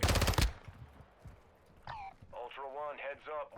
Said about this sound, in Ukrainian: ще є, бо тут постріли якісь були. Та стріляють.